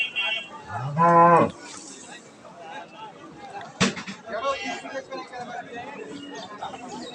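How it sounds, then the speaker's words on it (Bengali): Dairy cows lowing at a livestock market, one loud drawn-out moo near the start over a constant murmur of nearby voices and crowd chatter, with a sharp knock midway. "দুধের গরু দেখেন ওলা নে মাশাল্লাহ গরু দুটা"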